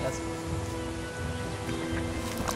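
Rain spell cast in the video game Magicka, a steady dense hiss of falling rain with pattering drops that runs through the whole moment at even loudness.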